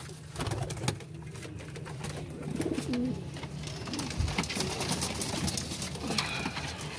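Several pet pigeons in a loft coo nearby, low throaty calls rising and falling over a busy background of rustling and scattered clicks, with no speech.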